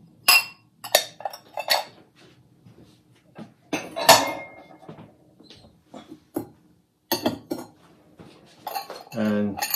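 Bright blue cone 6 glazed ceramic bowls clink and knock against each other in irregular bursts as they are handled, close and crisp, with short quiet gaps between.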